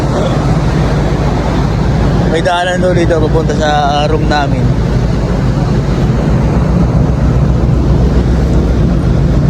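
Heavy, constant low rumble of a large ship's engine and exhaust aboard a vessel bound for Davao, loud and unbroken throughout, with wind buffeting the microphone and a person speaking briefly over it.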